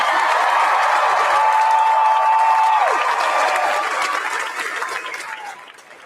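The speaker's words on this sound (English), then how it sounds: "If you can hype me up with claps and screams," A high school graduation crowd claps and cheers loudly, a dense wash of applause with a shrill whistle or scream riding on top, fading out over the last second.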